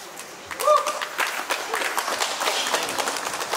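Wedding guests applaud the priest, a dense, sustained round of clapping from a crowd, fairly loud and continuous, with a few voices mixed faintly underneath.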